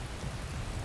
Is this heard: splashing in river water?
no